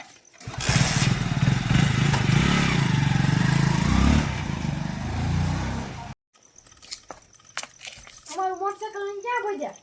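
A motorcycle engine runs loudly and steadily for several seconds, then stops; afterward people talk nearby.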